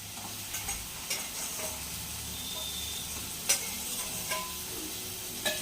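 A spoon stirs a potato into a gram-flour batter sizzling in a pan for a cashew curry, making soft, continuous scraping with a few small taps on the pan. The sound is fairly faint and close, with no talking.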